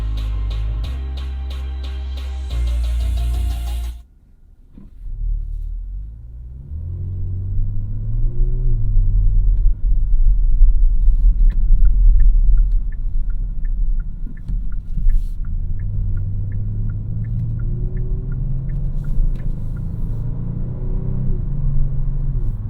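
A 2022 Kia Stinger GT2 idles while parked: a steady, low engine rumble holds close and even for about twenty seconds, following a few seconds of music that cuts off abruptly at the start.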